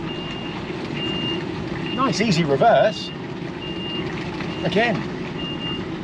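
DAF XF 480 truck reversing slowly on a muddy building site, its steady repeating reversing beeps clear over low diesel engine rumble, with brief talk and a louder burst mid-way.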